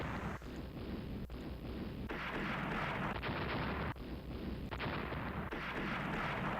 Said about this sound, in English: Use your 6-inch guns well.